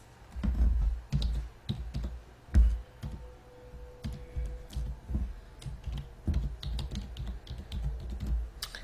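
Steady typing on a computer keyboard while entering an email address during online store setup, with irregular bursts of close, crisp key clicks and a few heavier thumps, no talking.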